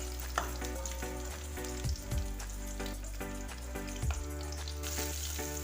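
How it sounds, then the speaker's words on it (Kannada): Ginger and chopped green chillies fry in a pan, giving a soft, steady sizzle throughout with several low thumps of stirring. "ಸ್ವಲ್ಪ ಶುಂಠಿ, ಹೆಚ್ಚಿಟ್ಕೊಂಡಿರೋ ಹಸಿಮೆಣಸಿನ ಹಾಕಿ ಫ್ರೈ ಮಾಡಬೇಕಾಗುತ್ತೆ."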